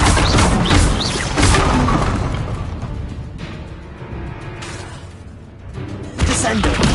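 Bombarda blasting spell from Hogwarts Legacy, a crashing boom with a shattering burst at the start, a fading rumble, then a second sharp blast near the end, with a voice speaking over parts of it.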